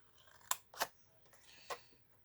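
Scissors snipping out paper heart shapes: three quick, crisp cuts spaced about a second apart, fairly quiet, with no talking.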